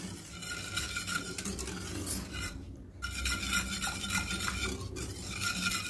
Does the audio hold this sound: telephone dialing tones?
no